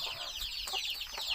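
Chickens cluck and chatter close by among layer hens with a rooster in the flock, a busy run of short overlapping calls filling the moment with no talk.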